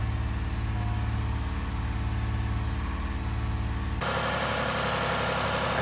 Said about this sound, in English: We're gonna run it for a little bit before we assemble the cowl and wiper assembly, just to make sure everything's good to go.